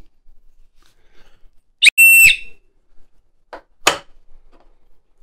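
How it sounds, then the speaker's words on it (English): Whistle from a SOL Scout survival kit blown in two short, sharp shrill blasts, close and loud, with quiet gaps between. "And a whistle."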